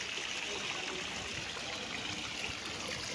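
Spring water pours steadily into a swimming pool at a resort in Liliw, Laguna, making a constant trickling, splashing rush, fairly soft and even, with no talking.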